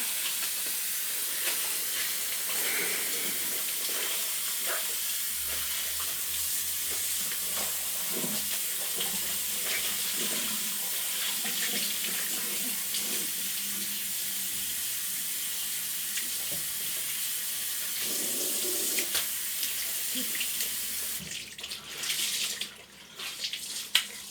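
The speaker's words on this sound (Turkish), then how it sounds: "Bezlerimi yıkayım sabunlayıp işimizi bitirelim" Tap water runs steadily into a sink while cleaning cloths are washed with soap, a continuous close hiss with faint splashing and handling sounds, growing more uneven toward the end.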